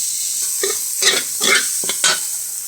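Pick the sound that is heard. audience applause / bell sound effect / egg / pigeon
egg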